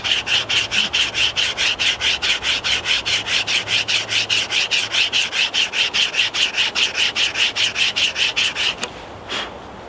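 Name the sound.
folding hand saw cutting wood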